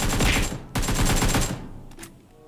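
Gunfire from a bot in PUBG Mobile, a loud burst of rapid shots for about a second, a second sustained burst, then a couple of fainter distant cracks as it tails off.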